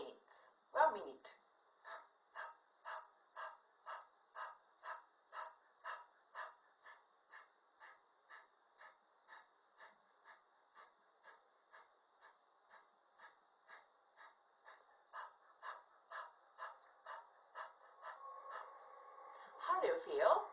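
Rapid, rhythmic nasal breathing from a yoga dog-breath exercise: a long, steady train of short, even puffs, about two per second, quiet and close, fading slightly mid-way then building again.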